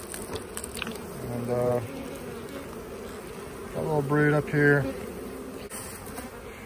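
Honey bees buzz steadily throughout an open-hive inspection of double deep boxes with a medium on top, close and constant, while a beekeeper talks quietly over them.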